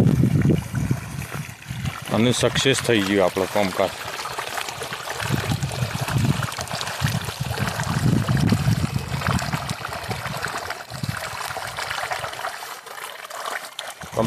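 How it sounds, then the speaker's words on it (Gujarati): Water gushes out of a newly laid pipeline, running for the first time, in a steady full-flowing rush heard close by, with people talking over it throughout. "કમ્પ્લીટ ફૂલ પાણી નીકળવા માંડ્યું."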